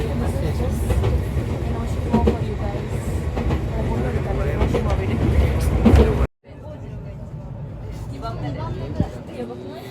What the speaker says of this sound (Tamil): 2 வீட்டுக்கு நடுவில் ஒரு ட்ரெயின் போயிட்டுருக்கு